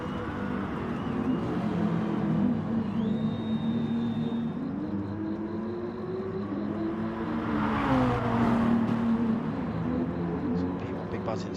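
BMW and Audi GT3 race cars from a racing video game on the Spa-Francorchamps circuit drone steadily with shifting engine pitch, under continuous commentary.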